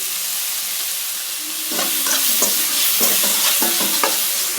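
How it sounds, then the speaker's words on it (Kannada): Masala noodle ingredients fry in a pan with a steady, loud sizzle while a spatula stirs and scrapes in irregular strokes, growing busier partway through, with no talk. "ಫ್ರೈ ಆದರೆ ಸಾಕು, ಜಾಸ್ತಿ ಫ್ರೈ ಆಗೋದಿಲ್ಲ."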